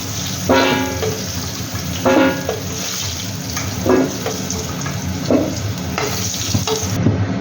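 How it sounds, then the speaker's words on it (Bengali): Potato pieces fry in hot oil in a kadai while being turned, a continuous sizzle broken by several periodic scraping stirs of a spatula against the pan, close and fairly loud. "এগুলোকে একটু লাল লাল করে ভেজে নেব"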